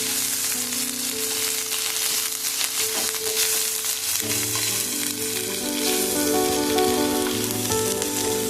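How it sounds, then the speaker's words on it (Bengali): Fried onion with added garlic paste sizzles steadily in a pan, loud and close, with stirring scrapes and a faint tonal hum in the background, and no speech. "এখন আমার পেঁয়াজটা ভাজা হয়ে এসছে এরপরে আমি এর মধ্যে এই রসুন বাটা দিয়ে দিলাম"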